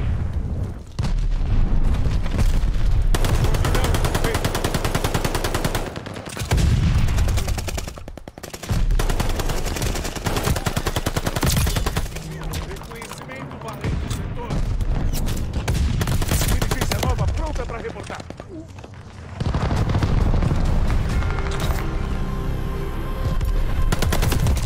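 MP40 submachine gun fire in Call of Duty: Vanguard multiplayer, loud sustained bursts of rapid automatic shots with explosions mixed in, broken by a few short pauses.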